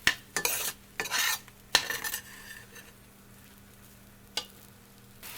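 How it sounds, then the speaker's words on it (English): Rice being stirred in oil in a stainless steel pot for a shrimp stir fry, heard as several close bursts of metallic scraping over the first two seconds, then a quieter pause and one last short scrape. "I'm just going to go ahead and just stir that around for a little bit"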